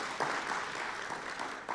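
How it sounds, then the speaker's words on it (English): Warm applause from a crowd, continuous clapping that swells briefly then carries on at an even level before trailing off. "you can give her a round of applause"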